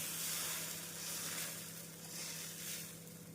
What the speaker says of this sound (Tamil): தோசை சட்டி நன்றாக காயவும் கோதுமை தோசையை ஊற்றிவிடலாம்